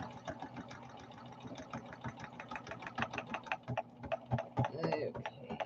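A sewing machine runs a top stitch on a junk journal, a quiet steady rapid needle clatter with slight irregular thumps, fairly close and without talk.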